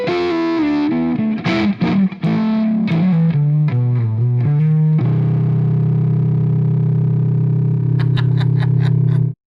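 A 1965 Gibson 335 electric guitar with the volume on 10 and a boost pedal on plays a loud, high-gain distorted run of notes that ends in a long sustained chord with a few bright picked notes ringing over it.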